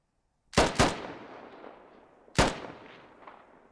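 Rifle fire in the military shooter game Squad: two quick shots, then a third after a pause, each a loud sharp crack with a trailing echo over a quiet background.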